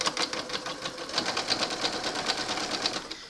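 A sewing machine stitches fabric slowly over pins, its needle clattering in a quick even rhythm, close and steady with no voices.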